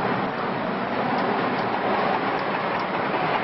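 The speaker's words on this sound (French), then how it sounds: "les trains circulent en menant voyageurs et marchandises à destination dans des délais très stricts" A French turbo-train running on the railway, a steady loud broadband rumble and rush of wheels on track, continuous with no talk.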